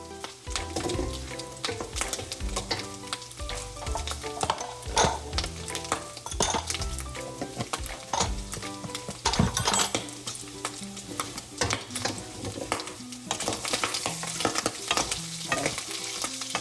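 Sweet potato (kamote) frying in a hot pan, a steady loud sizzle with frequent metallic clinks and scrapes of a utensil stirring against the pan, close and continuous with no talk.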